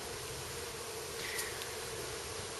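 Bees buzz faintly in a steady hum beside an air conditioner during a bee removal job, with a low background drone and no speech.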